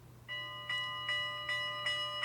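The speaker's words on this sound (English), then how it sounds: "this is the very unique Northern Pacific style or steam locomotive style bell that was equipped on these" A Rapido RS-11 model locomotive rings its Northern Pacific steam-locomotive-style bell, a steady series of about five clear metallic dings at an even pace over a faint background hum.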